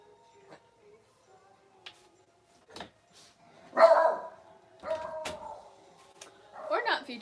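Cookie the dog lets out a few sharp barks and yips indoors, scattered at irregular intervals, with a person talking and calling her in between.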